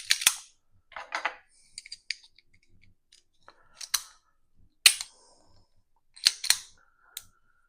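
Metal parts of a Colt 1908 Vest Pocket pistol being handled during reassembly as the barrel is turned to line up its lugs with the frame, producing sharp, close clicks and snaps scattered between quiet gaps.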